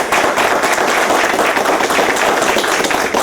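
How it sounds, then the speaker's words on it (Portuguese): Dense, steady applause fills an inauguration ceremony for a council's new board, many hands clapping loudly and continuously with no break from start to finish. "E agora vocês não poupem aplausos,"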